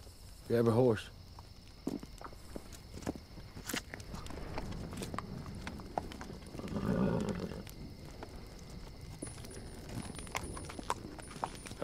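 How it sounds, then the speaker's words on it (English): Horses walk along a western trail, hooves clip-clopping in an irregular rhythm at moderate distance, with a faint whinny or snort, crickets and intermittent talk over the scene. "Willie, grab a horse."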